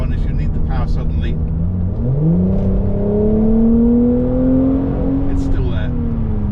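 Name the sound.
Mercedes-Benz SL400 engine accelerating on kickdown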